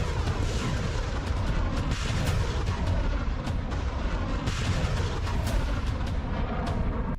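Heavy 152 mm artillery shells fire in a dense, continuous roar of overlapping blasts and rumbles, distant and unbroken throughout, with no distinct single shots standing out.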